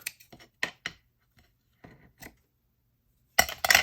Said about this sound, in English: So I'm going to cut the edges of these off.